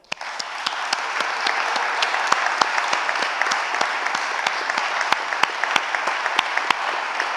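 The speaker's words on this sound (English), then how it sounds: "here is a round of applause to you" An audience at a commencement ceremony applauding a graduating student, a full, sustained round of clapping with sharp individual claps popping out of the dense crowd sound.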